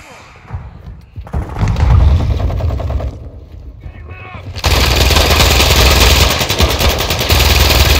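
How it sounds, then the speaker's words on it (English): Video game gunfire crackles in dense, rapid bursts, loud and close, with a thick, continuous barrage taking over in the second half. "They're shooting."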